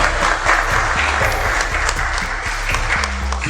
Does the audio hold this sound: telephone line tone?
no